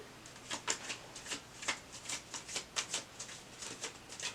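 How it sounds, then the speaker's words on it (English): A deck of cards being shuffled, a quick series of crisp riffling bursts in steady rhythm, close and fairly quiet, with no voices. "we're going to shuffle one more time"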